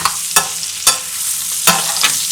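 Butter, oil, thyme and garlic sizzle in a steak pan, a close, steady frying hiss punctuated by a few sharp spatters or stirring clacks, loud and without speech.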